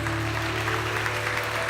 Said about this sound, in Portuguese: Aplauda bem forte ao Senhor Jesus.